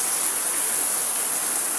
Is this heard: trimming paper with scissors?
no